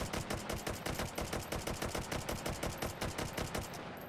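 Rapid semi-automatic gunfire from a Chinese-made firearm in the VR shooting game Hot Dogs, Horseshoes & Hand Grenades: a steady string of sharp, loud, closely spaced shots with no talking.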